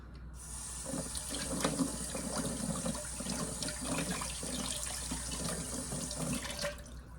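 Steady running water from a tap splashes into a sink, a continuous rushing hiss with small splatters, moderately close and without voices.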